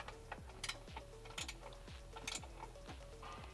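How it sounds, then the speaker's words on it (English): Quiet clicking of a 17 mm wrench ratcheting a diff brace bolt tight, small irregular metallic ticks and clinks repeating close by over a faint hum, with no voices. "I'll grab a 17 wrench"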